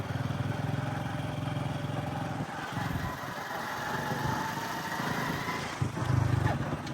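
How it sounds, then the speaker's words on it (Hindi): A motorcycle being ridden through farmland beside a small river, its engine a steady close drone with a low rumble that dips briefly and surges again. "हम मोटरसाइकिल पे हैं"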